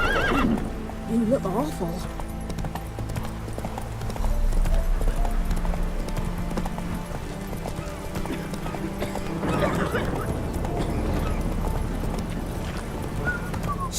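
Geralt's horse Roach in The Witcher 3 whinnies and snorts while hooves clip-clop steadily across the ground, with game music and a spoken line over the top.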